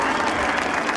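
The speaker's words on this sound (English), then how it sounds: "Jeff Gordon gets a round of applause from the crowd" A grandstand crowd at a NASCAR race at Daytona applauds and cheers in a dense, continuous wash of sound, heard briefly at steady loudness.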